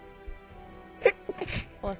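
A sneeze bursts out at a tabletop role-playing game session, a brief nasal burst around the one-second mark followed by a few short vocal sounds and quiet room noise.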